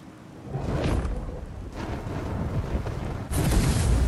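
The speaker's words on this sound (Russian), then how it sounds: "Нет, это как раз таки взрыв." Explosions in the video game Skyrim: a dense, roaring rumble that swells, eases, then surges louder again near the end, loud and continuous with a windy, whooshing edge.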